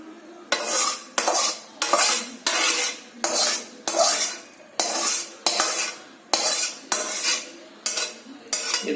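A spoon clinks rhythmically against a bowl while beaten egg is mixed with lightly fried onion and tomato, about a dozen regular scraping strokes, close and clear with no talking.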